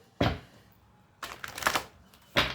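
Oracle cards being shuffled by hand in three quick riffling bursts, close and crisp, separated by short pauses in a quiet room with no talking.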